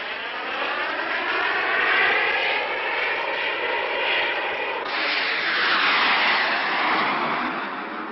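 A 1960s carrier-based jet fighter makes a low pass over an aircraft carrier deck without touching down, its loud sustained engine roar swelling and then shifting pitch as it sweeps past close by, with no voices.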